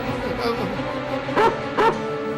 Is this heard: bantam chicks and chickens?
no